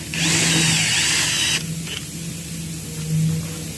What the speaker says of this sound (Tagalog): Tapos bubutasan na lang.